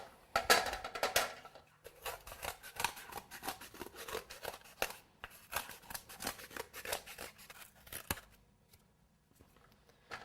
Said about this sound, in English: All right, scissors.